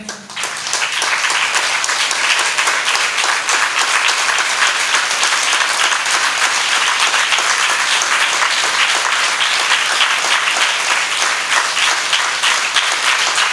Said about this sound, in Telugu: ఆగకుండా 10 నిమిషాలు చప్పట్లు కొట్టండి